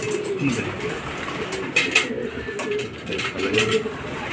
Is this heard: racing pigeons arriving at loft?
yes